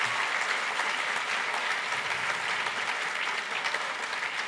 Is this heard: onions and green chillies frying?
no